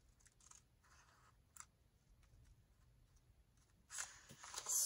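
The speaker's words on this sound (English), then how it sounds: "so I'm going to take my scissors" Scissors cut paper along the folds of an envelope in a craft project, making soft, faint snipping and rustling sounds that grow louder and scratchier toward the end.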